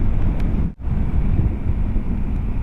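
Strong wind buffets the microphone in a continuous low roar, dipping briefly near the start before gusting back at full strength.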